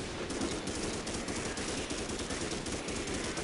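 Gunfire in the dinosaur shooter Primal Carnage, a sustained, fairly quiet rattle of rapid shots running without a break, like continuous automatic fire.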